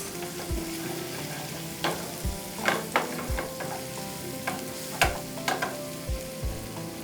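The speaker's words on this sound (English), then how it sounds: "Now we'll add some spring onion whites. And we'll saute them for 1 to 2 minutes." Spring onion whites sautéing in a broad non-stick pan, with a continuous soft sizzle and repeated spatula knocks and scrapes against the pan, heard alone.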